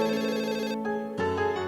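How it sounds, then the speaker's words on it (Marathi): A telephone rings inside a home: a near, loud electronic ringtone in two bursts separated by a brief gap, with no voices. "फोन वाजतोय, तो घे."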